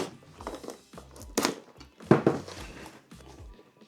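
Cardboard packaging for a Scolia Home 2 Flex dartboard being cut open and handled, a series of short crinkling, tearing and thunking bursts close by, with a couple of louder rips.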